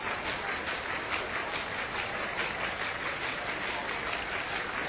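Stadium crowd in the main grandstand cheers and applauds along the home straight of a women's 5000m final at the World Athletics U20 Championships in Tampere, a steady, distant roar that carries on throughout.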